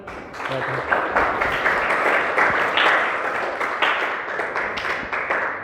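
A university classroom audience claps for a student who has just finished speaking, a steady wash of hand claps from a small group lasting the full few seconds, with a brief voice murmuring underneath.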